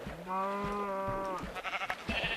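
A Minecraft sheep gives a drawn-out, wavering bleat, then a shorter second bleat close by, with light game clicks and faint talk at the end.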